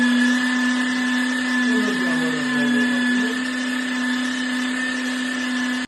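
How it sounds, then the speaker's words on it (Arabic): A food processor grinds chickpeas with nuts for Iraqi falafel, a loud, steady motor whine that runs unbroken for about six seconds before cutting off abruptly at the end. "راح نبلش بفرم الحمص"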